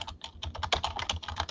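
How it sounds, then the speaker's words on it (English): Fast, furious typing on a computer keyboard, a rapid close run of crisp clicking keystrokes with no voices. "Furiously typing."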